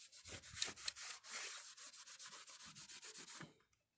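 A car dashboard being wiped clean with rubbing alcohol, a steady rhythmic rubbing of cloth on the dash surface, close up with quick repeated strokes and no talk, stopping at the end.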